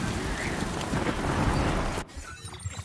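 Thunder rumbles in the Death Stranding 2 game world over steady rain, a loud broadband roar that holds for about two seconds and then cuts off abruptly, leaving quieter patter behind.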